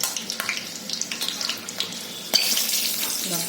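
Crispy onion bhaji fritters fry in hot oil, giving a steady close sizzle and hiss with a brief clatter partway through, after which the frying grows louder and denser.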